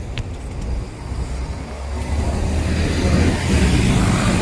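Road traffic on a UAE street, with buses driving past: a loud rumbling engine pass that swells toward the end, with no talk.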